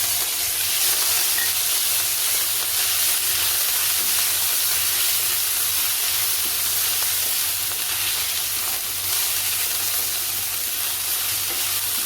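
Steady, crackling sizzle of a tempering with ginger, garlic and green chilli paste frying in hot oil, an even spattering hiss that continues without pause.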